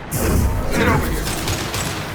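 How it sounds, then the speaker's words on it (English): A Concussive Shot ability fires in the Mass Effect 2 video game, opening with a sharp, loud blast that settles into a sustained rumbling wash of battle noise lasting about two seconds. "Firing concussive shot!"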